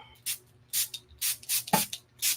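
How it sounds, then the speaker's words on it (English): Six quick bursts from a spray bottle, evenly spaced and close, each a short sharp hiss with quiet between them. "I'm going to spray the heck out of that"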